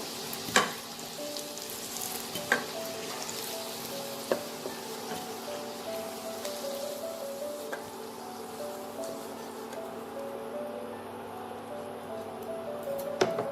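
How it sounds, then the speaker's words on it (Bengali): Potato pieces frying crisp in oil, a steady close sizzle with a few sharp utensil taps against the pan and a faint low hum beneath, no voices. "দেখুন আলুটা আমার সুন্দর ক্রিস্পি হয়ে ভাজা হয়ে গেছে, লাল হয়ে গেছে।"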